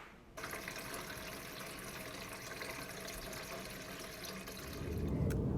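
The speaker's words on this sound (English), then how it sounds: "we will refill it with our filtered water" Filtered drinking water runs steadily into a container in an RV, a continuous close rushing pour that grows slightly louder and fuller toward the end.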